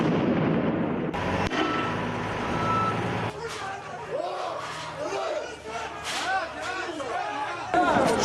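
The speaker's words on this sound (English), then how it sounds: "They responded with sound grenades and tear gas." Sharp, loud blasts of stun grenades go off during clashes between stone-throwing protesters and police in Jerusalem, with a roaring crowd, shouting voices and chatter filling the gaps between bursts.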